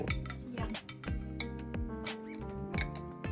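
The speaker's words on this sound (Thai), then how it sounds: "เดี๋ยวใส่ทุกอย่างเข้าไปในหม้อนี้" Eggs, tofu and other ingredients go into a cooking pot for braising, giving a quick run of ringing metallic clinks and knocks, close and bright, in an irregular rhythm.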